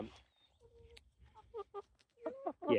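A few soft, short clucks from a chicken close by, scattered in brief bursts with quiet gaps between them.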